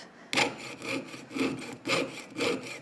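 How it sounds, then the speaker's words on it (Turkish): A jeweler's saw blade cuts through metal during a jewelry-making lesson, giving five even back-and-forth rasping strokes about half a second apart, close and clear, with nothing else audible. "Testere kılıyla keserken ilk önce böyle yaklaşık 45 derecelik bir açıyla aşağı doğru çekip oradan bir kendimize yol açıyoruz."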